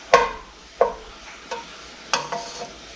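A spoon scrapes and stirs through blueberry filling melting in a pot, about five distinct close strokes at uneven intervals over a faint low background.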